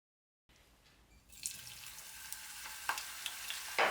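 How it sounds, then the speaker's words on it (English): Onion rings dropped into hot oil give a faint, steady sizzle that slowly builds, with occasional soft crackles and pops near the end. "I slice the onion into rings and toss them into hot oil."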